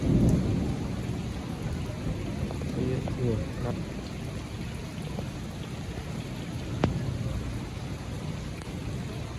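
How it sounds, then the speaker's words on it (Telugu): Dense, steady downpour roars throughout with a low rumble of thunder underneath and a sharp crack near the end; faint voices surface briefly. "ఫుల్ వర్షం దంచేసింది, మామూలుగా పడలేదు"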